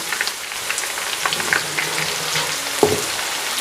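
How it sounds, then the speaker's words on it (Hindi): Onion frying lightly in a pan for a mashed potato curry: a steady close crackling sizzle with a few soft stirring knocks, no talking. "प्याज को हमने ब्राउन नहीं करना, हल्का सा इसको फ्राई करना है"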